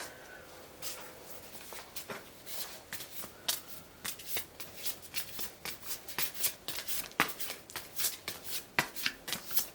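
A deck of tarot cards is shuffled up close, giving rapid, papery riffles and soft slaps that keep going in a dense, uneven rhythm, with no one speaking.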